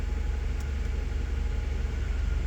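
A Toyota Sienna minivan engine idles just after starting, a low steady rumble held at an even, moderate level with no voices over it.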